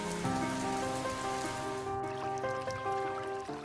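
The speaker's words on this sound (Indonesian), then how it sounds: "Musim hujan tiba" Rain falls steadily at the start of the rainy season, a continuous hiss of drops on surfaces under a layer of tonal music.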